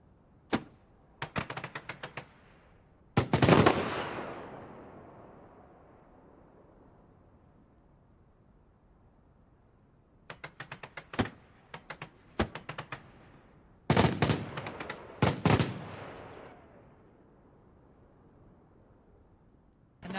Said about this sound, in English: letting the fireworks create a rhythm, a music of their own